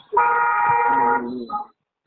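A truck horn gives one loud, steady blast lasting about a second, followed by a brief quieter honk before cutting off.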